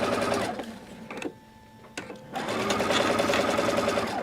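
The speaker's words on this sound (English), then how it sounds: "now we're just going to stitch this row together, or these 2 units together to make a row" A sewing machine stitches quilt pieces together in rapid, close mechanical chatter, stopping briefly for a quiet pause before resuming a longer continuous run.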